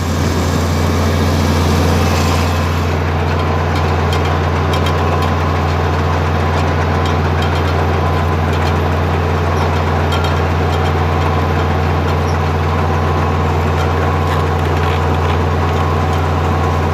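A Massey/Minneapolis/Case tractor backhoe engine runs in first gear while spreading fertilizer, a loud, steady low drone with a constant mechanical rumble and no voices.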